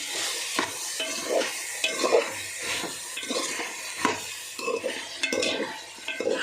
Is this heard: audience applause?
no